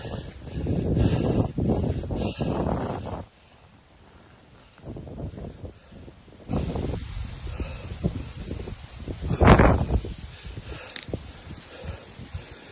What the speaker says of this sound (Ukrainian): І вітер нам не помішає.